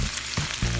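Onion frying in a hot pan for vegan low-carb spaghetti, a close, steady crackling sizzle with brief swells as the pieces settle and get stirred, no voices.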